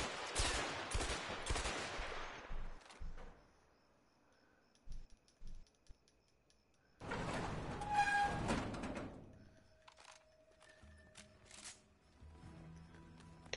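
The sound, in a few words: gunfire shooting at people in the video game A Way Out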